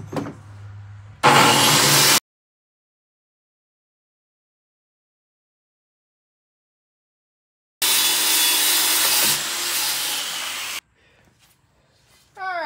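A circular saw cuts plywood in two loud bursts, a short cut then a long silence before a longer whining cut that winds down, followed by faint scraping.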